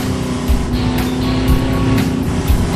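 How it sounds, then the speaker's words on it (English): A car tire skids on a race track, a loud, sustained, harsh roar with a constant hum and regular pulses of louder bursts, heard close with no talking. "there was no delay in that skid sound"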